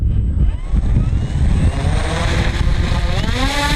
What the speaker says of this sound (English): So let me do a quick run up here, Steve.